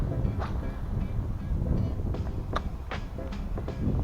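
Wind on a winter fishing trip buffets the microphone in a constant low rumbling roar, steady and fairly loud throughout, with a few faint brief clicks on top and no talk.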